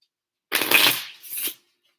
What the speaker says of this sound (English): I like how that's shuffled.